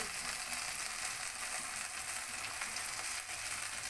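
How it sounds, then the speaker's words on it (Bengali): Masala with a little biryani masala sautéing in oil in a pan for home-style egg biryani, a steady, close, continuous sizzle and crackle throughout with no voices. "কষে নেবো ভালো করে যতক্ষণ না মশলা থেকে আমার তেল থাকছে"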